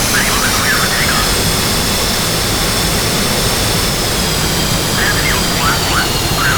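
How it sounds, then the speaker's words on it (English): A jet aircraft engine roars steadily and loudly at takeoff in the DCS World flight simulator game, a constant high whine over rumble, with faint radio-style chatter blips near the start and end. "Ready to clear for takeoff."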